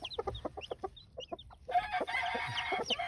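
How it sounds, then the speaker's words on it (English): Hens clucking inside a coop where a brood of newly hatched chicks has just emerged under the mother hen; soft intermittent clucks first, then a denser run of higher calls and peeps, fairly close and moderately quiet. "I can hear chicks."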